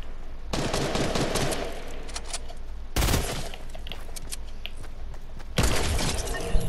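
Gunfire in Fortnite as a player tries for a sniper shot, several sharp loud bursts and cracks separated by busy rattling battle noise, with no talk over it.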